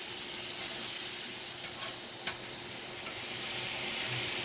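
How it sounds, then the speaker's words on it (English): Onion mixture sizzles steadily in a hot pan while a steak recipe is cooked, a continuous loud frying hiss with brief stirring scrapes partway through. "Spread it out, you hear that sizzle?"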